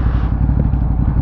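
A Ducati Hypermotard 939 SP motorcycle on a test ride, its engine a loud, close, continuous rumble with a fast, even firing patter and no voices.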